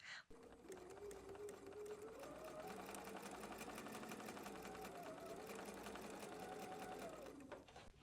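A home sewing machine runs steadily for about seven seconds, stitching quilt pieces for a tea-and-cookies quilt pattern, close and continuous with a rising and falling motor pitch and no talk.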